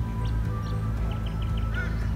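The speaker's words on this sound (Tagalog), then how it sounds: "Ibon yan eh." Outdoors on an early nature walk, a bird gives a short series of nasal, duck-like calls at middle distance, fairly faint over a steady low rumble of background noise.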